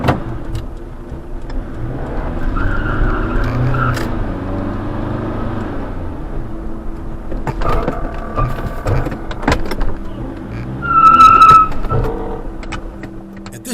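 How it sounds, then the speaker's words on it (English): Pickup truck speeds off down a road, heard from inside as a steady engine drone that swells and fades, with a few knocks and a brief high squeal near the end. "the driver hit the gas immediately"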